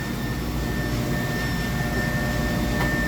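A book-making machine runs steadily in a workshop, giving off a continuous loud mechanical whir and hum with a faint high tonal whine, unbroken throughout with no talk.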